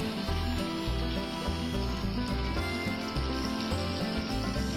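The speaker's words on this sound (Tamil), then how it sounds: "ஒரு கரண்டி மாவு எடுத்து எண்ணெயில இப்படி ஊத்திட்டா போதும்" Rice flour paniyaram batter fries in hot oil, giving a soft, continuous bubbling sizzle over a steady background hum, with no speech.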